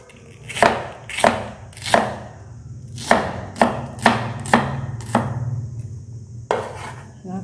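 Onion is sliced with a knife on a board: about ten sharp, separate chops land at an irregular pace, close and distinct, with quiet gaps between them and no voices.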